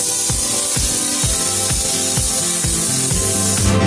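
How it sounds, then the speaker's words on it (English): Cooking oil sprayed from a can into a pot, a rapid series of short hissing bursts repeating about every half second, close and loud, nobody speaking. "I'm gonna spray the pot."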